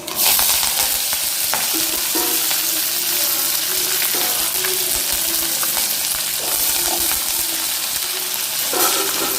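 Ginger and curry leaves frying in a pan of hot oil, a loud, dense, continuous sizzle with faint crackles and occasional spoon scrapes throughout, no voices.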